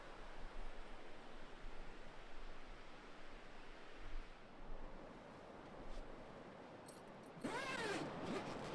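A loud creek rushes beside a campsite in a steady, broadband wash of flowing water, with brief wind buffeting on the microphone and a sharp rustling burst near the end.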